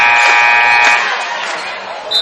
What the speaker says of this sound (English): the buzzer went off there